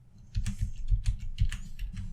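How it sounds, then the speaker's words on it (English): Several quick, light keystrokes on a computer keyboard as a command is typed, a short run of close clicks in an irregular rhythm with a low hum underneath. "What I'm going to do now is type in select disk 4."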